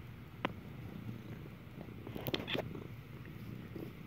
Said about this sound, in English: has the biggest purr and can be very vocal